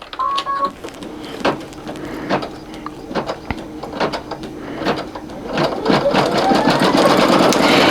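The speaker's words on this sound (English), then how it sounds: "do not put your fingers up under there while the machine is going" A Brother single-needle embroidery machine stitches a towel with a fast, rhythmic mechanical clatter up close, its pace steadying and growing louder toward the end.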